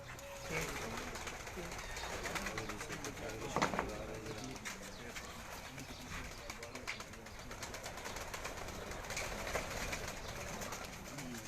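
Pigeons coo steadily among a kept flock at a pigeon fancier's gathering, soft repeated calls under constant background noise and murmuring voices of people talking nearby.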